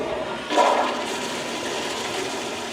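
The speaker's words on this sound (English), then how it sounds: "Give it another flush." A toilet flushes during bathroom cleaning with a sudden rushing gush of water that then settles into a steady, fainter swirling and refilling hiss, heard up close with no voices.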